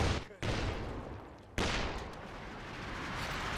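Machine-gun fire in Company of Heroes 2, heavy sustained bursts with a sharp break and restart, loud and continuous, mixed with booming battlefield noise.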